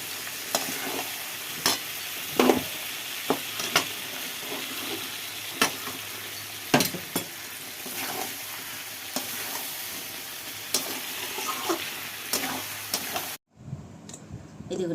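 Rohu fish oil curry with potato and eggplant cooking in a pan: a continuous sizzle with sharp scraping clicks of a spatula stirring at irregular intervals, ending in a brief quieter stretch.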